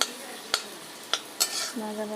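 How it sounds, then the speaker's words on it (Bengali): Onions fry quietly in a pan while a utensil is stirred through them. A few sharp scrapes and clinks land against the pan over a faint sizzle, and a brief voice starts at the end. "যে এখন নেড়ে নেড়ে ভালোভাবে ভেজে নেব।"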